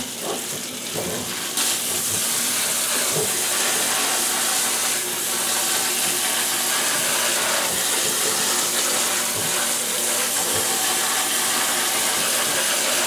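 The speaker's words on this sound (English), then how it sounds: "draining off the brine there, but also you want to wash it to get rid of the salt" Water running over brined relish vegetables to rinse off the salt, a loud, steady rushing stream from a tap into a sink, continuous and close.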